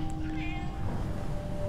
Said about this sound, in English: And there's the mutant cat.